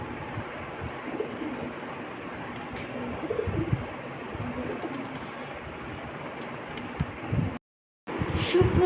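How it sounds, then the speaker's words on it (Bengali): Pigeons coo quietly indoors in a low, repeated murmur over a constant hum, the calls faint and close, broken by a short gap of silence toward the end. "বুদ্ধিমান পায়রা ঢুকে গেছে ভিতরে।"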